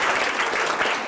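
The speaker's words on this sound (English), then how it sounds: "You don't have to clap every time because we'll be here all night." At a fall football banquet, an audience claps for freshmen being introduced, a brief, dense patter of applause from many hands filling about a second.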